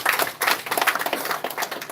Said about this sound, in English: Let's clap for Fred.